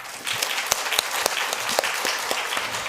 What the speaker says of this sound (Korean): 우리 별이를 위해서 한번 박수하십시다